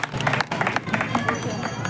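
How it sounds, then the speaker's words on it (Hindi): Crowd at a village temple celebration of Ambedkar's birthday clapping to welcome a guest, a brisk burst of dense applause with voices mixed in. "एक बार जोरदार तालियों से इनका स्वागत किया जाए"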